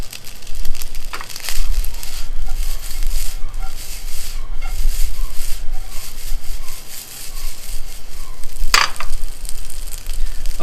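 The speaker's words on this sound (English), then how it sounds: "You just keep toasting. See, this pan is very easy." Fried rice tossed and toasted in a non-stick frying pan gives a steady dry sizzle and soft scraping rustle, close and continuous, with a brief sharper clack near the end.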